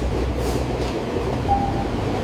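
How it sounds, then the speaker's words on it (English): A metro train rolls steadily past in a subway, a continuous low rumble of wheels and carriages with a brief faint squeal partway through, no voices. "Train every 2 minutes."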